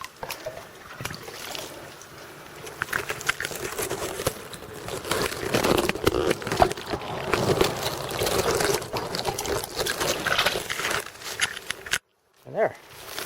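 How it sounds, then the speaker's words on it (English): A bottle found in a ditch is filled with ditch water outdoors, giving a continuous gurgling trickle with some rustling and splashing that stops abruptly near the end. "So let's fill up this bottle"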